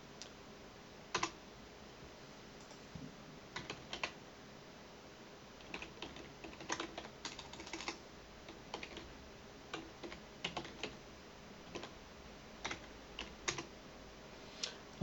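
Someone types on a computer keyboard, entering a localhost address into a web browser while setting up Apache and MySQL. Soft, irregular key clicks come in scattered bursts over a quiet background, close and fairly faint, with no talking.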